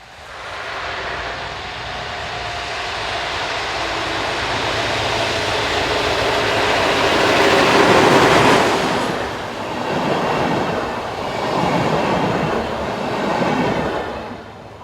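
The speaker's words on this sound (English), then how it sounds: "218-444 slows with the 2019 departure for Muldorf" Diesel locomotive 218-444 of a European railway rolls slowly into Hurikaufen station at evening departure time, a loud broad rumble and wheel-on-rail noise swelling nearby then easing with pulsing surges; no talk.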